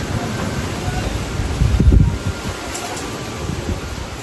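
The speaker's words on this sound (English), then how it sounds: "Oh no, the wind." Wind buffeting a microphone outdoors at an orchid festival in Miami, a steady low rumble throughout with a stronger gust swelling near the middle.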